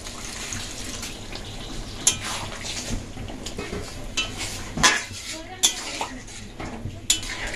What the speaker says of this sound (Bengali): এবার সামান্য একটু জল দিয়ে দেব।